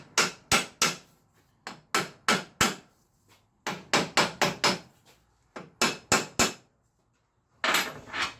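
Sharp hammer taps strike a Toyota Corolla KE70 standard differential part to loosen it, coming in quick bursts of two to four close, loud metallic blows separated by short pauses.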